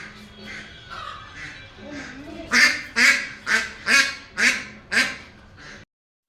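A market-bought duck quacking loudly and close, a rapid series of about seven harsh quacks in an even rhythm, ending in a brief silence.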